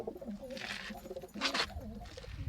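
Pigeons at a coop, including an old hen, coo in low, throaty, repeated bursts, fairly faint but close, with one louder rolling coo in the middle and no talking.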